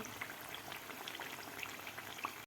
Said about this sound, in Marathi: आता आपल्याला आणखीन दोन मिनिट हे कचोरी तळून घ्यायची आहे